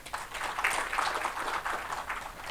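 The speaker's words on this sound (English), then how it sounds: "a big round of applause for him" Audience at a literary meet-the-author event clapping for a poet and novelist, a dense, steady burst of applause, moderately loud and somewhat distant, with no talk over it.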